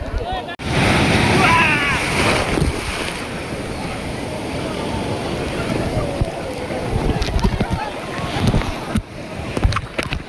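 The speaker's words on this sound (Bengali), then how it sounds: "বন্ধুরা ঢেউটা দেখুন, দীঘা সমুদ্রের ঢেউ" Heavy sea surf pounding Digha beach, a loud continuous roar of crashing waves with wind buffeting the microphone throughout, rising in a strong surge near the start.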